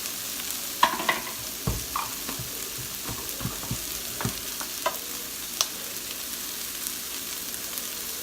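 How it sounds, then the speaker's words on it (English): Garlic sizzles in a pot with ground turkey while a utensil scrapes and stirs, giving scattered clacks over a steady frying hiss at close range. "Let me put a tablespoon of garlic in here."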